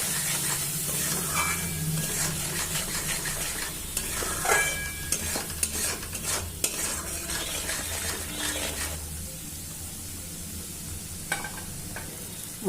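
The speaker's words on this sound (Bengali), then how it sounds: "এবার মশলাটাকে একটু আমি ভাজবো ভালো করে।" Spices frying in a pan for a Bengali-style homemade macher jhol: continuous close sizzle with scraping stirs and spoon clinks, the hiss thinning out after the first several seconds.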